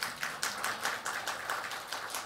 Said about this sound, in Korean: 여러분, 우리 아이들을 위해서 박수 한번 치십시다